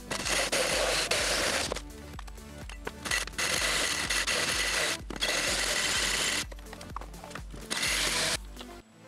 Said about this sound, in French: Juste encore un petit coup de scie pour couper les bords droits